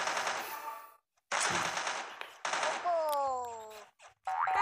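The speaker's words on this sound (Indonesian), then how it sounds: "Kita pakai shotgun, guys." Shotgun blasts from the FPS game Point Blank come in a few sharp, separate bursts with short silences between them, followed by a ringing, sliding game effect, and people talk faintly in the background.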